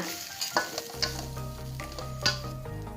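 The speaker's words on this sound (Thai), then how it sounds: "เมื่อคลุกเคล้าเครื่องปรุงเข้ากันดีแล้วนะคะ" Crispy shrimp fried rice is tossed and stirred in a hot pan, with a steady sizzle under repeated scraping clinks of a spatula against metal, close and continuous.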